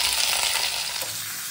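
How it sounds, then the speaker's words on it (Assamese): Garlic and chili fry in a thin film of oil, giving a close, bright, continuous sizzle that eases off slightly toward the end. "নামমাত্ৰ অকমান তেল দিছো ইয়াত অকমান দিম কলা বেহাৰি ইয়াতে দিম এতিয়া নহৰু আৰু জলকীয়া এতিয়া এইখিনি তেলতে"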